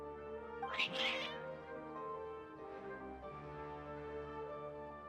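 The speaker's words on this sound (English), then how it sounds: "Your cats seem pretty worked up." Cats meow in the game Genshin Impact, one sharp, loud cry near the start followed by softer, drawn-out mewing over a steady musical background.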